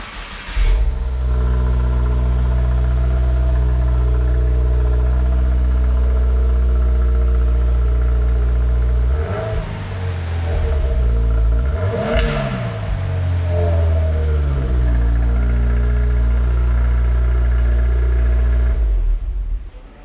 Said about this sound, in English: we can get a cold start of the OE exhaust